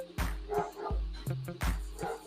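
Dogs barking at home, several sharp woofs and yips in quick irregular bursts, close and fairly loud, with faint whimpering between barks.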